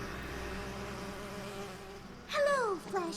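A steady bee buzz from the My Little Pony: Friendship Is Magic cartoon hums over low background noise, then a voice cuts in near the end.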